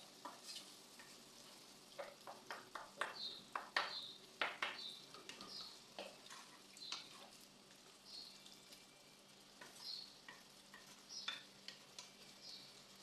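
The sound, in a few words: tomatoes and vegetables cooking in a pan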